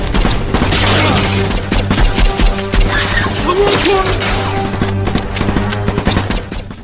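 Rapid bursts of film gunfire as assassins fire at a tower crackle loudly and continuously over a tense musical soundtrack, shots clattering in dense volleys with a few sharper impacts.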